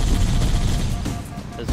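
Rapid gunfire from the video game Halo: Combat Evolved, played in co-op, dense and loud throughout with bursts and crashes blending into game noise.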